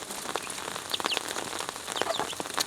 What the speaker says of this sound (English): My screen is getting wet because it is raining.